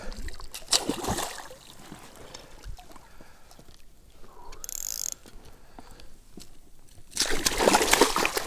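A pike thrashes on a fishing line after striking a wobbler on a steady retrieve, throwing up close, loud bursts of splashing water at the start and again at the end, with quieter sloshing between.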